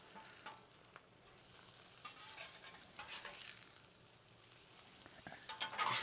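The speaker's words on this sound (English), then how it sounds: "We're gonna go in from the side and scrape them up." Over-easy eggs frying on a pancake breakfast griddle, with a steady faint sizzle and intermittent scraping of a spatula as they are lifted and flipped, no talking.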